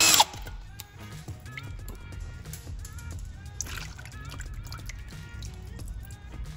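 Removing a 10mm transmission pan bolt on a BMW F80 M3 during a DCT service, heard as a brief loud burst at the start followed by ratchety tool clicks and metallic ticking up close, with no speech.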